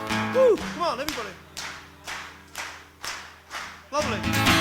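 Live concert audience clapping in steady rhythmic time, with evenly spaced claps about twice a second, while a voice whoops and calls out at the start and again near the end.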